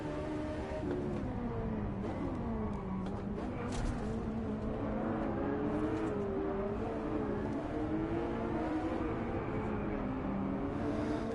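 Race car engine in Driveclub VR, revving steadily and continuously at close range with shifting pitch as the car races a bunched-up pack partly on dirt, with no voices.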